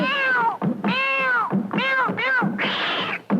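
A cat meows several times in a row, drawn-out and loud, heard up close within a Hindi song about a cat.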